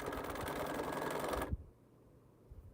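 A sewing machine fitted with a new bobbin case runs steadily and loudly with a dense mechanical whir, then stops abruptly partway through, leaving quiet room tone.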